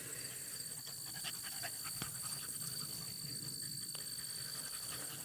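A beagle pants steadily and quietly after a rabbit chase outdoors, a continuous soft breathing rhythm under a faint background hum of insects, with no talking.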